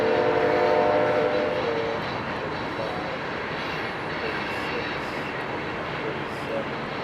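A freight train rumbles past close by in a steady, heavy roar, with a horn tone fading early and a voice faintly audible underneath.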